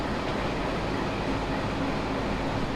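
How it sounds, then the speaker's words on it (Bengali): A Nakshikantha commuter train rolls into Kotchandpur railway station in Chuadanga, a steady, dense rumble of wheels and carriages heard from inside, continuous and unbroken without talk. "আমাদের নকশিকাতা কমিউনিউটার ট্রেন এই মুহূর্তে প্রবেশ করছে কোটচাঁদপুর রেলওয়ে স্টেশন"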